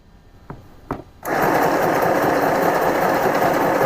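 After a couple of light clicks, a portable sewing machine starts up stitching in reverse and runs steadily with a loud, even mechanical whir.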